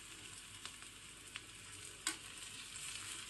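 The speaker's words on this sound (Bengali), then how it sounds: "এর মধ্যে আমি দিয়ে দিচ্ছি কুচানো লঙ্কা" Chopped green chillies dropped into hot oil with fried onions, giving a steady, fairly quiet sizzle with a few soft clicks and one sharper tap, no talking.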